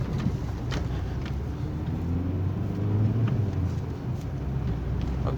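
A car moves along the road and picks up speed, with fresh gearbox oil in a transmission that had gone long without maintenance. Its engine gives a steady low rumble with a gently rising hum, and wind buffeting runs throughout.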